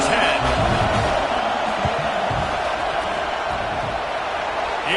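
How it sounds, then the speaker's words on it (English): Stadium crowd in a college football video game, Purdue at Michigan, roaring steadily before a fourth-down field goal attempt, a broad continuous wash of cheering with a commentator talking over it. "This crowd trying to do its part to get inside the kicker's head"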